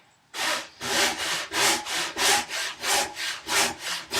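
Hand saw cutting tenon cheeks in wood on a workbench, about a dozen steady rhythmic strokes, close and loud, with no talking.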